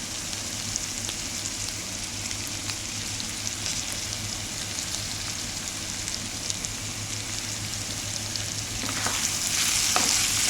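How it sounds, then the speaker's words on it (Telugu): Green chillies frying in a pan give a steady, dense sizzle that holds an even level throughout, growing a little louder and crackling near the end. "ఇప్పుడు మనం పచ్చిమిర్చి అనేది వేసేసుకుందాం."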